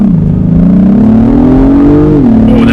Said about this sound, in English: that turbo kicks on and it just punches